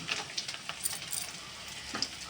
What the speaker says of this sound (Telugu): ఇప్పుడైతే కాస్త ఫ్రై అవనిద్దాం